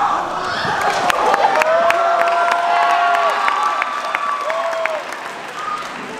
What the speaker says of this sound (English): Who said that you can clap?